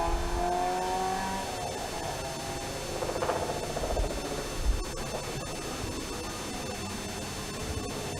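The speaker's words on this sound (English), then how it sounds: "Plenty of wheel spin off the line for Chris Chant" A race car at a sprint event launches off the line with wheel spin, its engine revving hard and then pulling away into a fading roar, with faint crowd and track ambience behind it.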